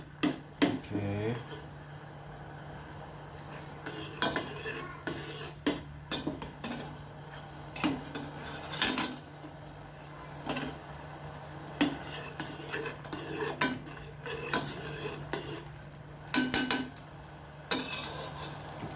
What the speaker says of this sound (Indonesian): kita aduk seperti ini guys